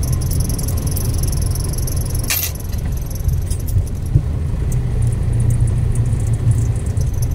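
Road traffic heard from inside a moving car in the Philippines: a continuous low engine and tyre rumble fills the cabin, with one brief sharp rattle or passing noise partway through.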